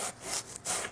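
Sandpaper of 150 grit rubbing across a thermofoil kitchen cabinet surface, two close, loud scraping strokes with a short pause between them, no voices.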